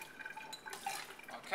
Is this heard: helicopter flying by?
no